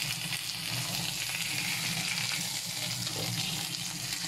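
Tambakol (yellowfin tuna) fish frying in hot oil gives a steady, dense sizzle and crackle, close and continuous throughout, with no talking.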